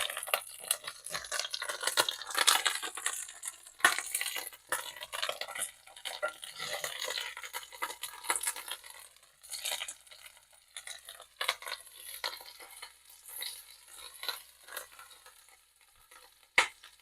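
Turkey breakfast sausage frying in a pan, a soft crackling sizzle with intermittent scraping and stirring clicks, fairly quiet and close, with no talking.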